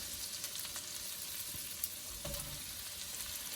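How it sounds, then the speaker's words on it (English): Cold day-old rice being stir-fried in a hot pan with other ingredients for fried rice, a steady close sizzle with a few scraping stir sounds and clatters throughout. "Nice cold day-old rice and stir fry that."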